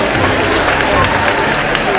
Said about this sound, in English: Give yourselves a huge round of applause.